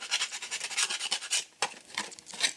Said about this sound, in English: you want to just kind of go over the sanding block